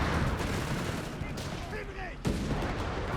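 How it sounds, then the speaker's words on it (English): Grenade launcher rounds landing in Company of Heroes 3, a dense battle din with a sharp blast near the end. "moving in here with grenade launchers, catching the anti-tank rifle section. That's 4 grenades."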